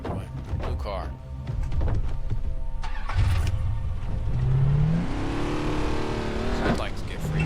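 A car in the video game Far Cry 3 starts, then its engine revs and climbs in pitch as it accelerates, loud and close, with a thunk early on and someone talking over it.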